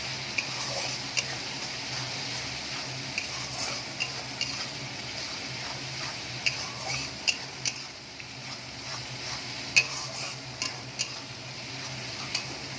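Cumin and coriander powder being stirred in a pan, a soft continuous scraping with scattered light ticks and clinks of the spoon against metal over a faint steady sizzle, fairly quiet and without talk.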